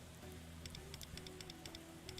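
Rain falls in the video game Persona 5 X, a soft steady patter with faint ticking drops over a low background music bed, fairly quiet throughout.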